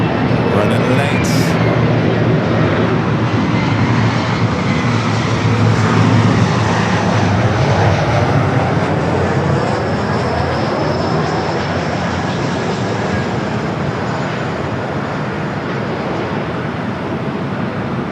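A fixed-wing airliner on a flight from El Paso, Texas, arriving at Los Angeles International Airport, its engines roaring loud and steady throughout with a broad, continuous rumble.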